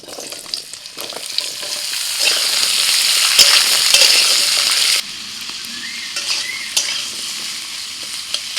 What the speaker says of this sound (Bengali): আবারও কড়াইতে তেল দিয়ে দিচ্ছি পেঁয়াজ আর আলু।